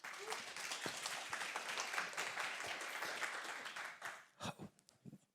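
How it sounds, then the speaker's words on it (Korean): Conference audience at a 2024 megatrend session applauds to welcome a presenter, a dense, quiet wash of clapping for about four seconds before it thins into a few scattered claps and fades out. "여러분 큰 박수로 환영해 주십시오"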